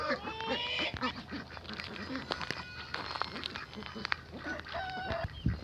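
Young ducklings about one and a half to two months old quack on a Mersin farm, with busy overlapping calls close by and people talking over them.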